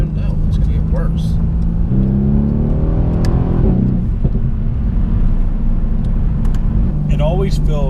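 A tuned 600+ horsepower Mercedes-AMG C63 accelerates hard, its engine droning loud and steady from inside the cabin with rising and shifting pitch as gears change, while people talk over it.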